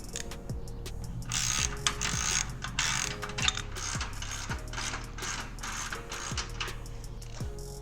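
A hand ratchet works loose the 9/16 muffler clamp bolts on a Harley-Davidson Low Rider, giving a steady run of rapid close clicking pawl strokes with regular swing resets, continuous and fairly loud with no voices.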